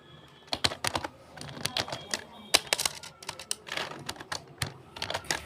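Someone types code on a computer keyboard nearby in quick, irregular bursts of crisp key clicks with short pauses between them.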